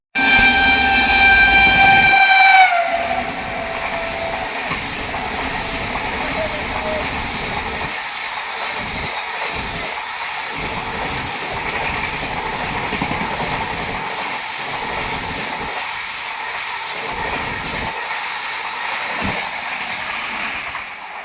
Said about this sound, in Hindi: पीछे से आ रही है भुवनेश्वर राजधानी एक्सप्रेस